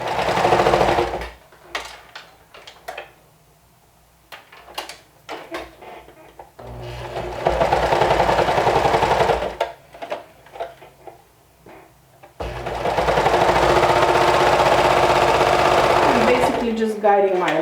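A sewing machine stitches clear elastic into a waistband seam without stretching it. It runs in loud, steady bursts, with short quiet pauses and faint handling sounds between runs.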